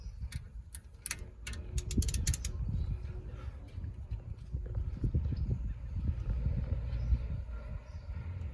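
Brake caliper bolts are loosened with a ratchet on a Nissan Xterra brake job, giving faint irregular clicks and clunks of metal tools, with sharper ticks early on and soft handling noise throughout.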